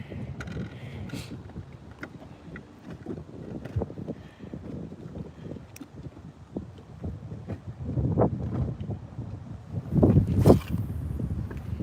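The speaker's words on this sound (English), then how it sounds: "The wind keeps getting me." Wind buffets a fishing boat while bass fishing on open water, a rough, gusty rumble across the microphone with irregular knocks and splashes, swelling louder toward the end.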